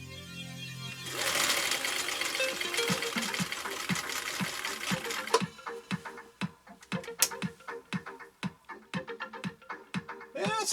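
A Husqvarna Viking CI 21A sewing machine runs in a steady, fast whirring stitch, then slows into a sharp, evenly spaced ticking of needle strokes, close and loud with no talking.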